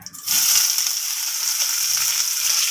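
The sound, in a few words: chopped onions and green chillies frying in oil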